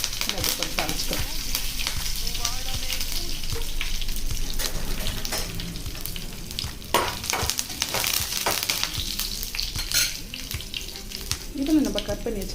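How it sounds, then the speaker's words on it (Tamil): Dried red chillies and a sprig of curry leaves crackle and spit loudly in hot oil for a tempering, with stirring clatter and splattering pops throughout, close and vigorous. "2 காஞ்ச மிளகாய், ஒரு கொத்து கருவேப்பிலை, அது போட்டு தாளிச்சுக்கிறோம்."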